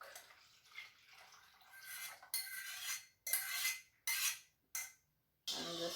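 Utensil clinks and scrapes against a bowl while goat's milk is stirred into homemade body butter, in irregular close bursts with short pauses between.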